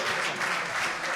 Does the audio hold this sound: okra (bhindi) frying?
no